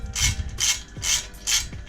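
A hand ratchet clicks through four quick strokes while bolts are tightened on an upTOP Bravo roof rack being installed on a Tacoma, each burst of rasping pawl clicks close and distinct with short pauses between.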